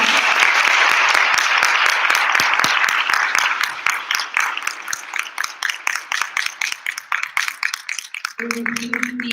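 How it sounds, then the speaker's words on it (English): Loud applause from an audience after a Bharatanatyam arangetram performance, dense clapping at first that thins into fewer, sharper claps before a voice cuts in at the very end. "Please give her a huge round of applause."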